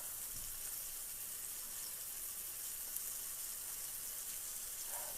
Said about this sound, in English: Donna, I'm cooking fried chicken